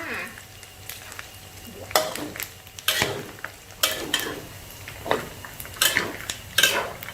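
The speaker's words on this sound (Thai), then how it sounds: "ทำการคนต่อไปค่ะ" Pork fat frying into cracklings is stirred in a pan with repeated metallic scrapes and clanks of the utensil against the pan over a low sizzle, close and irregular.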